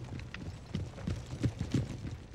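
Cavalry hooves of a horse regiment in Empire: Total War, a soft, fairly distant clip-clop of several horses moving in a loose, uneven rhythm over low battlefield ambience.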